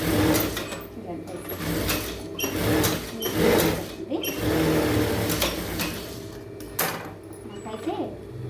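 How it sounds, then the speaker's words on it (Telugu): Sewing machine stitching a blouse lining, a steady close mechanical whir with small pauses and bumps as the fabric is adjusted, running throughout. "ఇలా సర్దుకుంటూ నీట్గా ఎక్కడ పీస్ అక్కడ పెట్టి స్టిచ్ చేసుకోవాలి"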